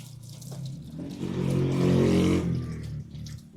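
Water sprays steadily from a hose onto the side of a car during washing, a close, broad hiss that swells louder in the middle before easing off, with a low engine-like rumble underneath.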